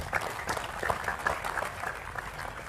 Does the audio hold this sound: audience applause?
yes